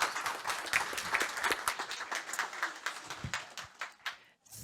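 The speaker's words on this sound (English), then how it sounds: "A round of applause, please." An audience at a NATO youth summit applauds, with full clapping that thins into scattered claps and dies away near the end.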